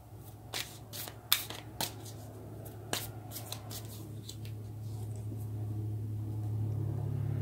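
Tarot cards are shuffled for a reading, a run of crisp riffling snaps and flicks in the first few seconds, close and fairly quiet, fading into a low steady hum with no talk.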